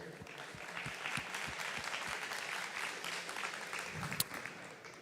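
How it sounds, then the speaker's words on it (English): A crowd of attendees at a farm show startup pitch event applauding investors, dense continuous clapping that holds steady for several seconds at moderate distance, with a single sharp clap standing out near the end. "give them a big round of applause here"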